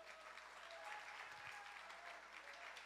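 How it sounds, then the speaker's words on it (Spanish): A church congregation at a worship service claps in a steady, continuous wash of applause that is faint and distant throughout. "Dele un aplauso al Señor."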